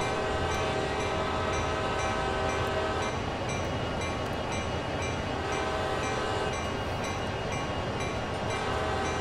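A train running in Train Sim World, a loud continuous rumble of wheels on rails with faint rhythmic clicks and a steady tonal hum throughout, close and unbroken.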